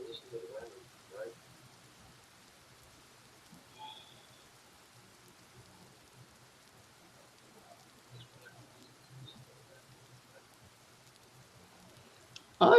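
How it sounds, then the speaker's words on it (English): Faint, steady rain patters softly in the background, with a murmur of voice at the start and a sudden noise at the very end. "I guess we have a reason to listen to the rain, right?"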